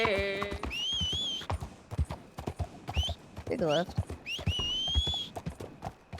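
Horse hooves clip-clop steadily in a video game while the horse whinnies now and then, sheep bleat nearby, and someone talks over the sound.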